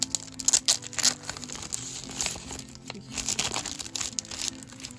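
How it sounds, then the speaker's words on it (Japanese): Crinkly kraft paper wrapping bag for snacks and food being opened, with loud close crackling and rustling bursts that come in uneven waves, heard alone. "こうちょっとパリパリっとした感じのクラフト紙でできていて"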